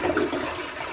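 A toilet flushes with water shut off at the supply valve during a bidet installation, a close, loud rushing gush filling the short moment without any speech.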